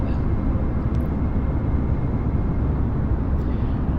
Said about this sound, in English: Trouble is, it's very noisy outside the plane there.